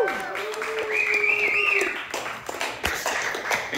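Comedy club crowd in Portland, Maine applauding the first comic onto the stage, a steady spread of clapping with some whoops and cheers lasting a few seconds, close and fairly loud.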